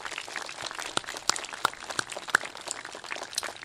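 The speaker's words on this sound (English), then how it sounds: "If we could have a round of applause for the family." Scattered hand claps and a soft crowd applause texture at a park playground rededication ceremony, fairly faint and steady, with a few sharper individual claps standing out.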